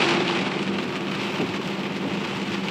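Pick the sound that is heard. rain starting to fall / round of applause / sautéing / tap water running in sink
rain starting to fall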